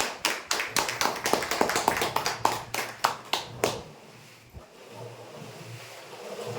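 A small crowd at a prize draw for customers claps in a burst of loud, rhythmic applause for several seconds, then it fades into low room noise.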